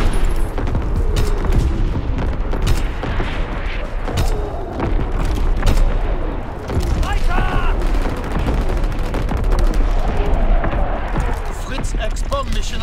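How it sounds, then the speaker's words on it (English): Call of Duty WW2 Team Deathmatch on the Groësten Haus map, with loud continuous gunfire, machine-gun bursts and artillery booms layered densely throughout, under intermittent game radio voice lines. "Firing primary battery, target position confirmed."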